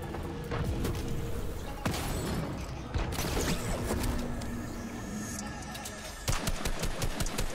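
Video game gunfire crackles in rapid bursts and single sharp shots over a dense, noisy game soundscape, with loud hits at moments and a steady rumbling background.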